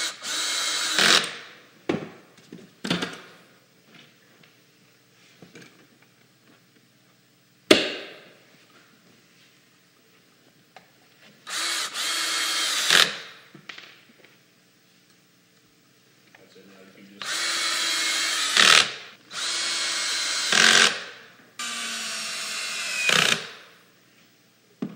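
A power drill drives pocket screws into the wood of a large fireplace mantel in a series of short whirring bursts, several spaced apart and a cluster near the end, with knocks and voices talking between them.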